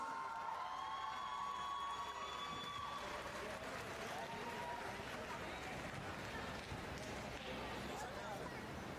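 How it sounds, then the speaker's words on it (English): An audience at an under-15 boys' basketball final applauds the winner, with steady crowd noise and clapping spread through the space while voices talk and shout over it throughout. "he just won a final. He deserves more applause."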